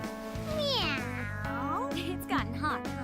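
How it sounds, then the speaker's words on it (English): Morgana, the cat character in the video game Persona 5 Strikers, gives a pair of gliding meows, close and clear, over a steady game soundtrack hum. "You too, Morgana. Meow."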